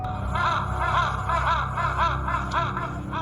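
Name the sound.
black crows cawing while flying around a village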